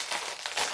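Short crinkling rustle of plastic packaging from a diamond art kit, a brief close-up crackle lasting under a second with no voice.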